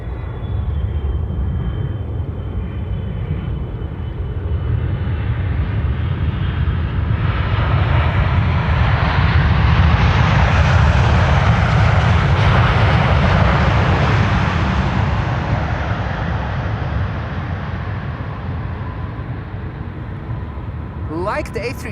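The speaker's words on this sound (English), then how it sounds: "Emirates Sky Cargo over here, flight 9993, arrived from Dubai World Center" An Emirates SkyCargo Boeing 777 freighter arriving at Amsterdam Schiphol after the flight from Dubai World Central, its engine roar swelling loud and steady as it approaches and passes, then slowly fading, with voices present.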